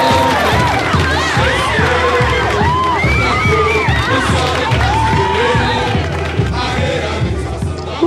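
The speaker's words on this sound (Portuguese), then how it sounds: "E com gritinhos ainda." A large carnival crowd at the Viradouro samba school parade cheers loudly, full of overlapping shouts, shrieks and whoops in a dense, continuous roar.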